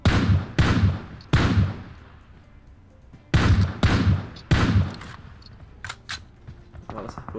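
Gunfire in the PUBG Mobile battle royale game: five sharp, loud shots in two groups of bursts, each with a decaying tail, followed by fainter, softer pops toward the end.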